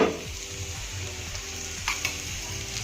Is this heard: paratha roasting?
yes